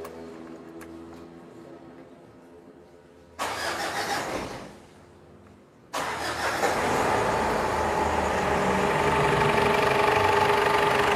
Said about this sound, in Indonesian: Akan kita nyalakan dulu dari mesinnya.